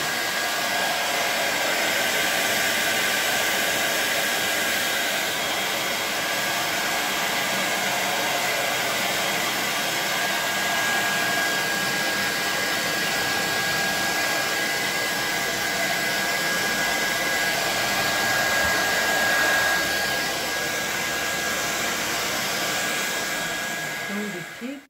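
A hair dryer blows on a bleached wig, a loud, steady whooshing roar that runs without a break for about twenty-five seconds.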